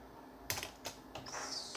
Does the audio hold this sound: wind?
no